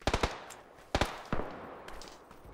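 Machine gun fire from an M249 in PUBG: a quick burst of three sharp shots, two more single cracks a second apart, then a softer shot and faint distant pops, fairly quiet overall.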